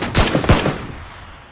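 Gunfire in the battle game PUBG: two or three quick, close automatic bursts in the first half second, then a ringing tail that fades away with no one talking.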